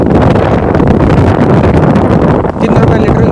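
Strong stormy wind buffets the microphone at a petrol pump, a loud, continuous roaring rumble with no break throughout.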